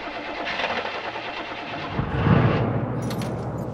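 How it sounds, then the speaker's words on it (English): An old truck engine turns over and catches in a film scene, a low rumbling rise near the middle that settles into a steady idle, with a light metallic jingle beforehand and no voices. "And she knows how to start an old truck."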